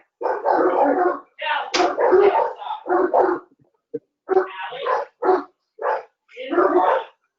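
A pit bull barks in loud, close bursts, pausing briefly between them in an irregular rhythm, while people talk nearby at times.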